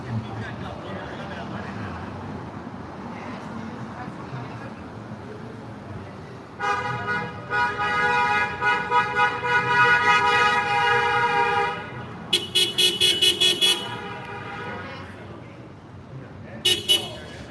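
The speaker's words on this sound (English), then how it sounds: "the people honk the horn" Car horns honk repeatedly over traffic noise at a protest outside the Scientology base in Clearwater, first in a long sustained blare, then in quick short toots, with voices in the background.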